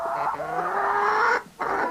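A black hen clucks and squawks close by, two drawn-out calls split by a short gap.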